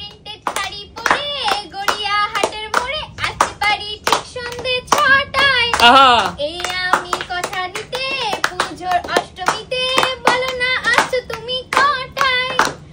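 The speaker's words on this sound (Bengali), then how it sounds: "জোরে হাততালি" Loud, fast hand clapping in bursts, crisp and close, mixed with children's voices and singing-like chatter throughout.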